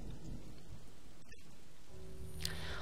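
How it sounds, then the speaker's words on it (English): Steady rain falls in the video game Home, a continuous wash of drops across the whole stretch with a faint brighter patter near the end. "The rain gave me a terrible sense of foreboding, and it chilled me through my clothes."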